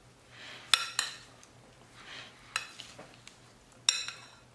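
Chickpea and cucumber salad being mixed in a bowl, a few sharp clinks of a utensil against the bowl spaced apart over soft rustling stirring, close and quiet with no talking.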